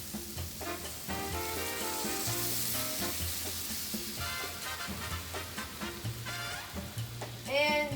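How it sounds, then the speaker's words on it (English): Coconut milk hits a hot pan and sizzles steadily while a spoon stirs and scrapes in irregular strokes; the frying hiss stays continuous and fairly close, and nobody speaks. "Now we'll be putting in the coconut milk"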